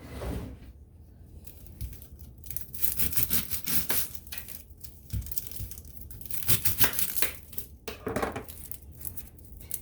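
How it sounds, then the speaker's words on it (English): A kitchen knife cutting up a small onion on a board, with irregular crisp slicing, scraping and crunching strokes, close and moderately loud, with no talking over it. "we're just gonna cut up this onion"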